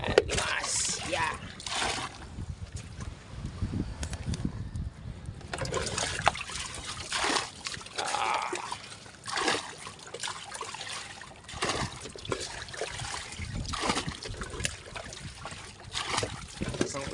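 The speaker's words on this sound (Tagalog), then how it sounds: "Yan, limasan natin." Rainwater being bailed by hand out of a boat after a heavy downpour, with uneven water splashes and trickles repeating throughout amid waves, under steady talk from people aboard.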